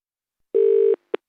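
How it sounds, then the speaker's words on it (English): A single telephone tone plays, a steady electronic beep of about half a second followed by a short blip, clean and isolated. "Here comes the phone call."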